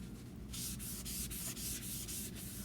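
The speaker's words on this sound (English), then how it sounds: "I'm going to take a Kleenex because I want to wipe this thing off one more time" A tissue is rubbed repeatedly across a surface during a silhouette wreath craft project, making a soft, close, rhythmic swishing that repeats about twice per second over a low background hiss.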